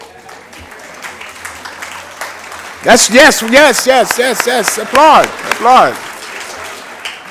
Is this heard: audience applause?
yes